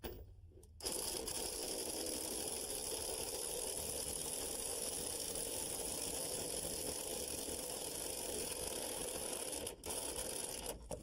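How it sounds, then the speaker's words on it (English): Impact wrench driving a lag bolt into a deck sill, a loud steady buzzing hammering drone that starts abruptly, runs for about nine seconds and cuts off briefly near the end. "now we'll just screw it into the sill using the impact wrench"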